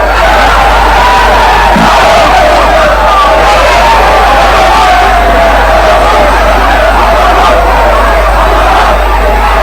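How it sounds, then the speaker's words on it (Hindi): A packed stadium crowd of fans gathered in the rain for a singer's last rites, a dense, loud, continuous roar of voices with scattered shouts and whoops. "पूरे स्टेडियम में देखिए खचाखच भीड़"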